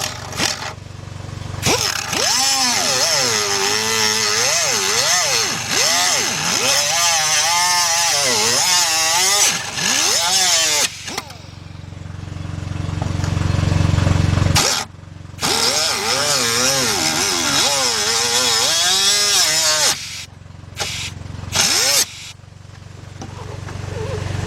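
An air-powered cutting tool bites into the floor pan of a Ford Mustang, loud and close, running in long whining bursts broken by short stops, with a voice showing up at times between the cuts.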